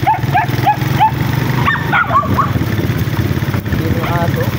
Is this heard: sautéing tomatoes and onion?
no